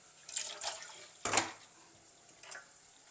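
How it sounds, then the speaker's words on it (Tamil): A few short splashes and trickles of water poured in small bursts into jackfruit-seed masala cooking in a pan, fairly quiet and close, with soft sizzling between. "இதுக்கு கொஞ்சம் தண்ணியும் சேர்க்குறேன்"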